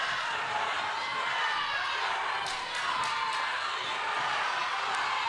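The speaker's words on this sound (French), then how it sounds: "On voit la foule là, qui encourage." A sports crowd at a local event cheers for its team, a dense, steady roar of voices with a few sharp bangs and thumps poking through, continuous and fairly loud.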